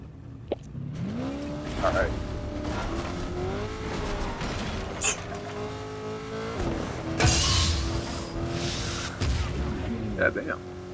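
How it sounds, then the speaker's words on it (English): Car engine in the video game Fortnite, a steady droning motor with shifting pitch as the vehicle drives, running under ongoing talk with occasional sharp bangs. "Dude, you got like a fucking death race car going on right now"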